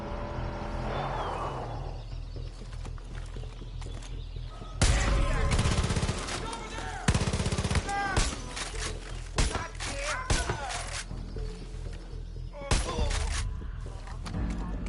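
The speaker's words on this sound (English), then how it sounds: "Bad that I'm using a rifle instead of a bow." Rifle gunfire in a video game, loud close shots and rapid bursts breaking into a quiet stretch, repeating in clusters amid game ambience.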